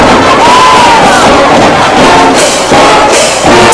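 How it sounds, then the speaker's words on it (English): A sold-out stadium crowd roars and cheers at a high school homecoming football game, a loud continuous wash of voices with scattered whoops throughout. "Looks to be a sold-out crowd here tonight"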